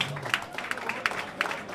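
Applause from an awards-ceremony audience at the Mega Muzika Awards 2018 for a Croatian blues musician, a steady wash of clapping with a few sharper claps standing out, moderately loud and heard alone.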